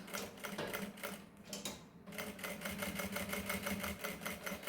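A sewing machine stitches a backstitch on mesh fabric, its needle clattering in a fast, even rhythm up close, pausing briefly before resuming the steady stitching.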